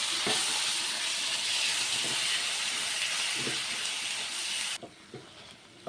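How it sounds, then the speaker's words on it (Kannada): Masala paste cooks with paneer in a hot pan, giving a steady close sizzle and hiss with faint stirring taps, then the sizzle drops away near the end. "ಮಿಕ್ಸಿ ಮಾಡಿರೋ ಮಸಾಲವನ್ನು ಪನ್ನೀರ್ ಜೊತೆಗೆ ಹಾಕಿ ಚೆಂದಾಗಿ ಮಿಕ್ಸ್ ಮಾಡಬೇಕು"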